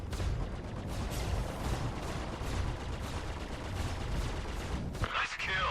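Vandal guns in the Star Citizen video game fire in rapid bursts of crackling shots, fairly quiet and continuous, with a sharper mechanical clatter near the end.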